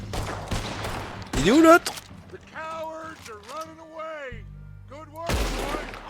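Gunfire in the video game Red Dead Redemption, a few sharp shots between stretches of talk, with music-like tones and other game sounds under the voices.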